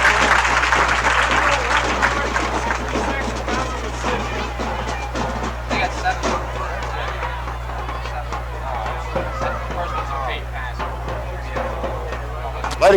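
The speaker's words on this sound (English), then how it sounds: "Nice hand from the hollidaysburg crowd." The crowd at a 1970 Hollidaysburg high school football game gives the halftime band a steady round of applause, a broad wash of clapping and murmur heard from the stands over a constant low hum.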